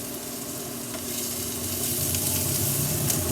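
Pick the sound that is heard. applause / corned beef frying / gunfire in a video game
corned beef frying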